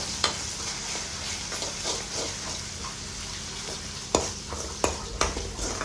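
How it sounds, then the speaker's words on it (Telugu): Ginger-garlic paste being stirred as it fries in a pan for a broad bean curry, with a steady close sizzle and scraping spoon strokes, several sharp clinks against the pan near the end. "అది ఫ్రై అయ్యే వరకు మంచిగా కలుపుకోవాలి."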